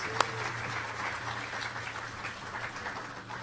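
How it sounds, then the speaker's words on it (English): Faint, steady applause from an audience at the opening of a university Indigenous sharing and learning centre, continuous throughout at modest volume after a single sharp clap at the start. "I just want to really give them a round of applause"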